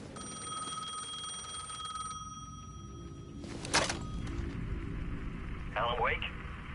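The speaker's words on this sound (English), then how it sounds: "The payphone was ringing again." A payphone rings inside the Alan Wake video game, a steady electronic ringing that holds for a few seconds, then cuts off and gives way to other game sounds and a short swooshing effect.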